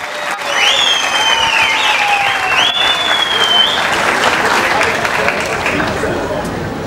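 Loud, sustained audience applause for İlhan Başkan at a Sivas regional culture event in Yenikapı, a dense crowd clapping steadily with whistles and background chatter mixed in.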